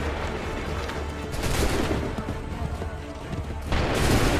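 Musket volleys crack in a sustained battlefield fusillade from Assassin's Creed 3, dense overlapping shots rolling on without a break, loud and close, with shouted commands mixed in.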